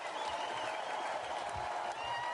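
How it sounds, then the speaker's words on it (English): Wrestling event crowd in an arena giving a brief, steady roar of cheering and applause, moderately distant and even throughout. "The crowd reacts as Christine stares directly at him."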